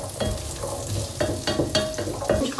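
Onions sautéing in a pan of neutral oil while a soup is made, a steady sizzle broken by repeated stirring scrapes at a close, moderate level with no talking.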